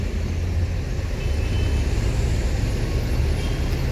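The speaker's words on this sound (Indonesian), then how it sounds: "Konvoy bus Padang." A convoy of Padang long-distance buses passing a terminal area in Indonesia, a continuous heavy engine rumble and road roar that stays close and loud without any talk.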